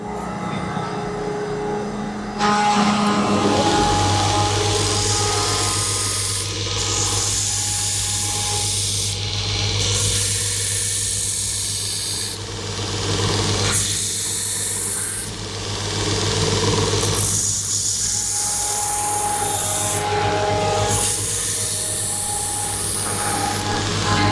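Steady rasping and filing on the handle of a handmade knife as excess material is trimmed away at a knife workshop in Yatağan, Denizli, with a constant low hum running underneath the repeated close strokes.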